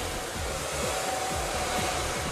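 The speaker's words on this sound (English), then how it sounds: "With the blow dryer, I want it flat to the head." A handheld blow dryer runs steadily and loudly close by while drying hair, a continuous airy roar with no pauses or talk over it.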